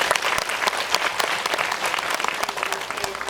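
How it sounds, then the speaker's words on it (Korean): Audience applauding at a film talk event in a large cinema hall, dense steady clapping from many hands throughout, loud and close with no talk over it. "큰 박수 부탁드립니다"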